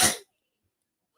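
A single sharp sneeze, close and loud, followed by silence.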